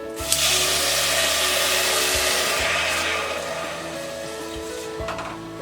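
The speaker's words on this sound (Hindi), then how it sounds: "अब हम इसमें 1 कप पानी डालेंगे।" Water poured into a pan holding tamarind and jaggery on a gas stove, a steady rushing pour lasting about five seconds, close and fairly loud, with a low hum underneath.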